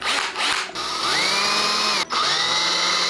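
A power drill whirs steadily while carving into a pumpkin, running loud and close with one short stop near the end before it spins up again.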